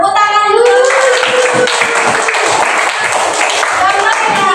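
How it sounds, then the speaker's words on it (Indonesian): A classroom bursts into clapping hands, a dense continuous wash of applause from many pupils, loud and close, with a voice briefly audible at the start. "Ya, tepuk tangan dulu."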